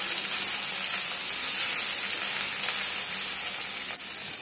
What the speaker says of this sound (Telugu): కాసేపు అంతా పోపులో కలిపేటట్టు వేపుకోవాలి.